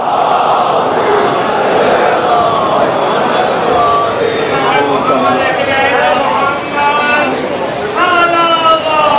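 A crowd gathered at an imam bargah majlis in Lahore recites salawat, a loud, continuous mass of voices chanting together, rising in unison near the end.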